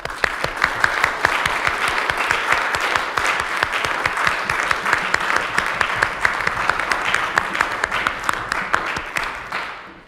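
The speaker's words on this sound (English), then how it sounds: "How about a round of applause?" A congregation at a Unity of Kalamazoo church service applauds, a steady, dense roar of many hands clapping that holds for about ten seconds before tapering off at the end.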